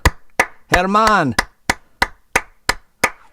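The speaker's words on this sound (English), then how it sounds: "let's get a round of applause" Sparse hand claps after a song at a listening session, crisp and evenly spaced, about three per second, close by, broken once by a short sung or spoken voice.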